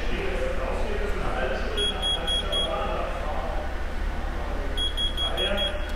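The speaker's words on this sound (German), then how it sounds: "Hören wir einen Piepton, das ist jetzt die Höhe einstellen." Two short bursts of rapid high-pitched electronic beeps, four or five each, from a retrofitted car frunk automatic motor control setting the opening height, sound over a steady background hum.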